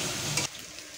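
Water splashes into a hot pan of frying spice masala, a loud sizzling hiss that cuts off abruptly partway through, leaving a quieter sputter behind.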